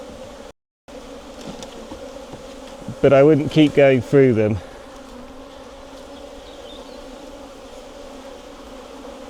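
Honeybees hum steadily from an open hive while frames are inspected, and someone speaks briefly over the low droning buzz.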